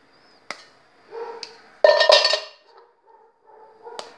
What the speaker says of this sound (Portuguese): Então você pega uma panela mais grande, põe a água na de baixo e você coloca uma em cima